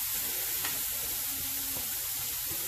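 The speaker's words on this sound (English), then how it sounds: "I'm going to work on this sausage. Most of it's already browning up." Sausage browning in a non-stick pan makes a soft, even hiss of frying that holds steady throughout, with a faint tap or two of a utensil.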